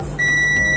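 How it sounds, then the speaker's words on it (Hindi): A milliohm meter gives a steady continuity beep while probing a shorted VPH power line on a mobile phone circuit board, starting abruptly and holding a clear, loud tone over a low hum. "बीप साउंड आ रहा है।"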